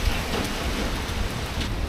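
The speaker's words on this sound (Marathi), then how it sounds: "फुल पाऊस आहे इकडं" Heavy rain falls steadily outdoors in dark, windy weather over a farm, a dense broadband hiss with no voices.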